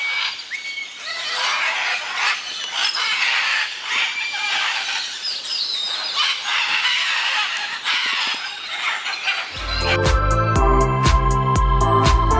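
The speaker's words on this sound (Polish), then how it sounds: "Trafiliśmy na jakiś okres godowy tych papug, bo tak hałasują, że nie wiem, czy mnie będzie słychać." Parrots during mating season at the Copan Ruins in Honduras squawk and screech loudly and continuously in a dense chorus, until music comes in near the end.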